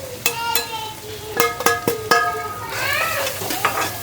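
Dry spice masala for eggplant bharit is stirred in a pan, with a soft sizzle under repeated scraping and clinking strokes of a spoon against the metal, close and busy.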